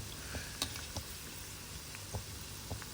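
Bhajis fry in hot oil with a faint steady sizzle, broken by soft scattered pops and crackles, and no one talking.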